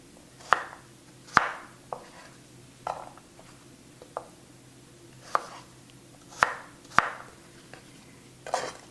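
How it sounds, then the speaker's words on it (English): A knife chops apples into chunks on a cutting board, sharp distinct cuts landing in an irregular rhythm, about ten strokes, close and clear with quiet kitchen background and no talk. "So now I'll slice them, and I'm slicing them into chunks."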